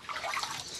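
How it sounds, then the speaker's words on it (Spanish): Water sloshing and trickling in a wooden bathtub filled to 40 degrees and heated by a wood fire, a soft, steady splashing close by with no voices. "La bañera se abre así y el agua está a 40 grados."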